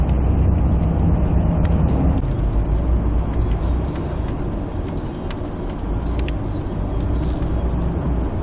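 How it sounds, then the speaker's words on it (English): A bus rolls through ordinary freeway traffic at reduced speed. A steady, loud engine and road rumble continues throughout, with occasional brief higher hisses over the drone and no talking. "So the bus has slowed down now that we're in more typical freeway type traffic."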